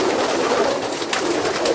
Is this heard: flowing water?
no